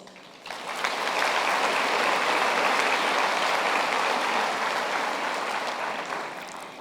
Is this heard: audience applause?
yes